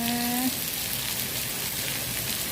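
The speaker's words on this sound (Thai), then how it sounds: "ฝนตกนะคะไม่มีทีท่าว่าจะหยุดเลยนะคะ" Steady rain hissing continuously at a Phuket shopping mall, a dense even wash of sound with a short tonal whine at the very start.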